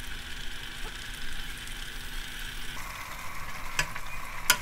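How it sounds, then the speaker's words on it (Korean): Braised lotus root being stirred in a pan, with a steady soft sizzle throughout and a couple of brief scrapes near the end, close by, with no talking. "중간에 이렇게 한번 저어줘야 되는구나"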